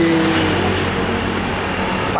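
Congested road traffic at Pasar Babat market in Lamongan, a steady close car engine hum with a brief revving swell, continuous throughout.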